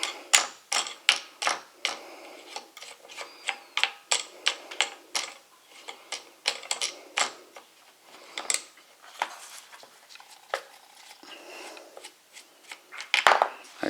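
A 12-inch ratchet bar clamp is adjusted and taken apart close up, with a long run of sharp mechanical clicks and clacks in an uneven rhythm and no talking.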